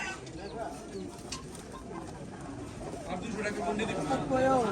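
Pigeons at the Sarulia pigeon market, cooing and fluttering faintly amid a steady crowd murmur and nearby talk, with a busy outdoor market bustle throughout.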